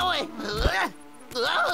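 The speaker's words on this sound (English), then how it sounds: "Oh no, a flea!" Cartoon fleas buzz around a bear as a loud, wavering insect-like whine that swoops up and down in pitch, breaking off briefly midway and then returning.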